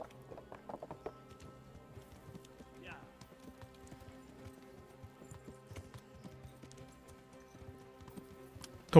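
Hooves clop at a steady pace during horseback riding in the game Kingdom Come: Deliverance, fairly quiet and close, mixed with light rain-like patter and low background tones, with a voice talking at times.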